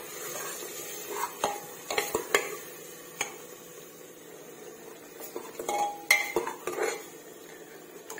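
Ground mint paste fries in a pan while a utensil scrapes and clinks against the metal in irregular bursts, over a soft, low sizzle with quiet gaps between strokes.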